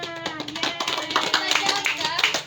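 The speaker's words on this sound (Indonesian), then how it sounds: "Beri tepuk tangan untuk Nana." Students in a microteaching class clap for a presenter after a group talk on corrosion, a lively patter of hands close by, mixed with chatter and overlapping voices.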